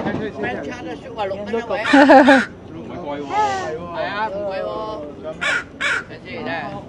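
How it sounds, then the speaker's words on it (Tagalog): A crow caws several times outdoors at a seaside market in British Columbia, loud harsh calls in short bursts, with people chatting nearby between and over the calls. "May uwak."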